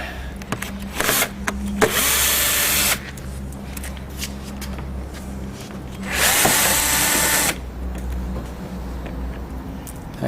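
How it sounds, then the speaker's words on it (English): Electric screwdriver backing screws out of a Mitsubishi Pajero door panel, two loud whirring bursts of about two seconds each separated by quieter handling noise, close up with no talking. "I like to cheat and use the electric screwdriver."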